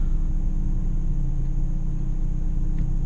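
A Ford Fiesta's engine in second gear under normal acceleration makes a steady, fairly loud low drone inside the cabin, with no talking.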